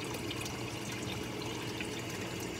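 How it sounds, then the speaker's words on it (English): Water bubbles and splashes out of a pipe on a Clear Water Scrubbers CW-50, a steady, faint, close gurgling stream without pause. "you can hear the bubbling, coming out of the water a little bit."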